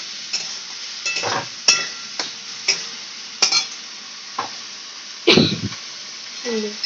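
A spice paste of ginger paste, chili, cumin and coriander powder with salt fries in oil, giving a steady light sizzle broken by scraping stirs and a few sharper clinks of the spoon against the pan.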